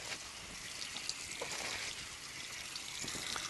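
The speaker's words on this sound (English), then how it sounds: "I'm going to go ahead and leave my water running just to remind me to wash my hands at the end" Tap water runs steadily into a sink in a clinical setting, a continuous faint splashing hiss with no voices.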